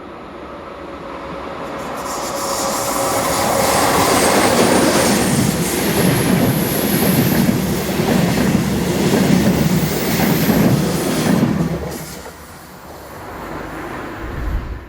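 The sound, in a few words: Class 140 locomotive hauling southbound train to Stuttgart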